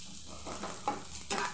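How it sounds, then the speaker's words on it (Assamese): Finely chopped onions fry in a pan until brown for an Assamese bean-seed dal, with a soft, steady sizzle broken by a few louder stirring scrapes, close and quiet. "বাদামী ৰং হোৱালৈকে মই ভাজি ল'ম।"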